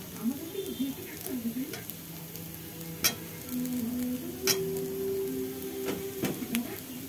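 Curry leaves and boiled potatoes fry in a pan with a soft, steady sizzle, broken by occasional sharp clinks of stirring, fairly faint and close.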